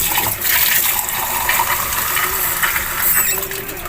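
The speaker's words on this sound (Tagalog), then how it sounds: "Lagyan natin tubig guys." Water poured into a cooking pot for a squid and shrimp vegetable adobo, a loud, close, rushing fill with some splashing and a voice speaking over it.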